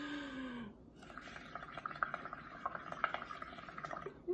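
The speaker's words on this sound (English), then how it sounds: "So I'm gonna blow out to try to make bubbles." Air blown through a straw into water tinted with food coloring makes continuous bubbling and gurgling, steady and close with small popping bursts, preceded by a brief bit of speech.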